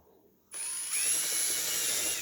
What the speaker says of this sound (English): using the countersink bit, I put this in the hole